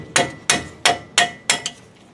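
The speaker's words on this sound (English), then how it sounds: "use a mallet, break that loose" Five sharp metallic blows from a mallet hitting a 19 mm wrench on a front brake caliper bolt of a 2007-2014 Chevy Silverado, evenly spaced and close, with a lighter sixth tap at the end.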